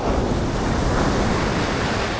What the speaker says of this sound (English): the waves here sound like thunder